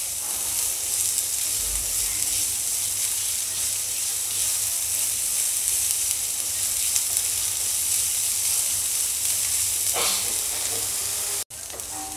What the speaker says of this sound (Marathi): कांद्याचा कच्चापणा जातपर्यंत आपल्याला भाजायचा आहे